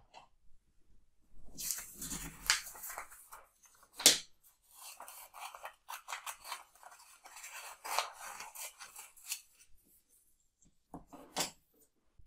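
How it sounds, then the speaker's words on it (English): Scissors snip in short, irregular cuts with light rubbing and rustling between them, close and quiet against near silence, and no one speaks. "With the scissors, cut off one leg of a chair."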